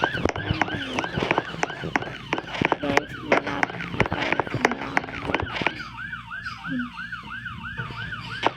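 A police siren wails in repeated rising and falling sweeps, loud and close, with traffic noise beneath and people talking over it throughout.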